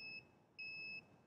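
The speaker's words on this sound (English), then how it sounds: "this time it beeped twice." Two electronic beeps from a two-speed above-ground pool pump timer, one short then one longer, clean high-pitched tones in an otherwise quiet room.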